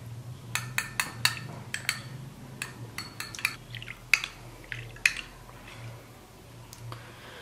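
A spoon clinks and scrapes against a bowl while ingredients for a homemade hair mixture are stirred together, giving a series of light irregular taps over a low steady hum.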